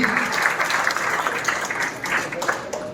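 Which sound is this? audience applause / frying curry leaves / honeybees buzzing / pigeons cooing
audience applause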